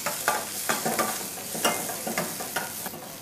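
Garlic, curry leaves and sliced onion sauté in hot oil, a close sizzle broken by quick rhythmic scrapes of a spoon stirring against the pan, with no voices.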